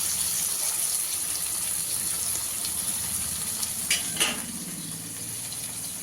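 Cowpea beans go into softened tomatoes frying in a pan over low heat, a steady close sizzle with a couple of brief stirring clatters partway through.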